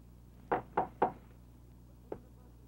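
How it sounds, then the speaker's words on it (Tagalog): Knocking on a door in a comedy scene: a quick run of three sharp raps, a pause, then one softer knock, close and clear over a quiet room. "Kumakatok?"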